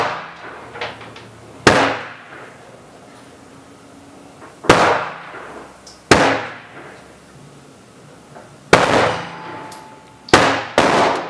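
Gunshots at an outdoor shooting range while testing reloaded ammunition, five or six loud, sharp single reports spaced a few seconds apart, each with a ringing echo tail and no talk.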